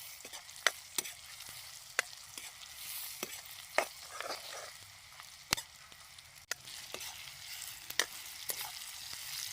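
Khichuri ingredients with salt are stirred in a pot while onions cook, giving a soft steady frying hiss punctuated by regular sharp taps and scrapes of a spoon against the pot, fairly quiet and without voices.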